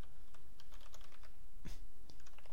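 Rapid typing on a computer keyboard, a run of light close clicks and taps in an uneven rhythm with one louder clack partway through.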